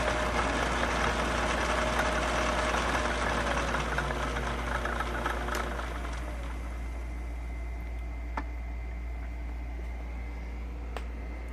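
Drill press spindle motor driven through a speed controller, a steady low electric hum and mechanical whir that eases slightly partway through, with a few faint clicks, no talk.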